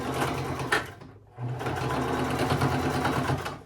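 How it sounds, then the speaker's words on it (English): A sewing machine runs a straight stitch across the waistband of side-tie pants in a steady, close whir, pausing briefly partway through before resuming. "now we're gonna close up this little opening by doing a straight stitch across"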